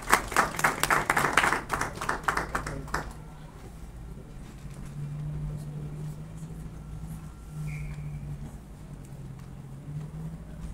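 A lecture audience at a university law school gives a burst of applause that lasts about three seconds, then the clapping stops and leaves quiet room tone with faint murmurs.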